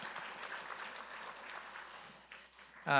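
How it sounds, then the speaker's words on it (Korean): A church congregation at a Sunday service gives soft, distant applause as a blessing. The clapping thins out, and then a sudden loud tone cuts in at the very end. "큰 박수로 축복해 주시기 바랍니다"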